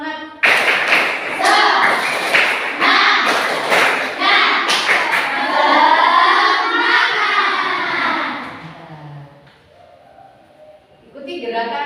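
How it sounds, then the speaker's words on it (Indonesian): A group of schoolchildren performs a rhythmic spirit clap, loud and close, with sharp thumps and claps in quick patterns and voices chanting along, then fading to quiet before talk resumes. "Coba tepuk semangat."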